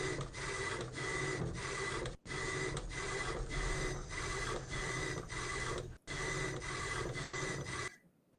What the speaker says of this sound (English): the audio is that of a printer